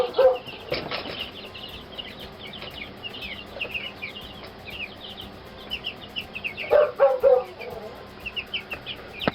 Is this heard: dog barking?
yes